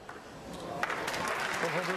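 A snooker crowd applauds a century break at the 2018 Grand Prix semi-final, with moderate clapping rising steadily in the background while a commentator talks over it.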